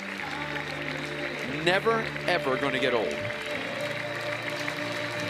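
Ballpark crowd on its feet applauding at a La Salle vs Clemson NCAA college baseball game: a steady wash of clapping and crowd noise running the whole time beneath a commentator's voice.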